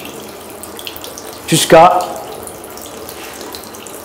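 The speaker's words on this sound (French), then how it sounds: "on va refroidir à de l'eau tiède sous un robinet comme ceci" Lukewarm water runs briefly from a tap, a short loud burst of splashing at a sink, with a speaker talking over it.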